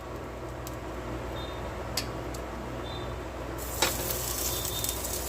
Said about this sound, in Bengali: ঘি বা মাখন মাখিয়ে নেবেন ননস্টিকে, দিয়ে চিকেনগুলো একটা একটা করে দিয়ে ভেজে নেব